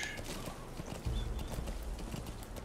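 A horse gallops in the video game Metal Gear Solid 5, its rhythmic hoofbeats thudding quickly and steadily under faint background game sounds.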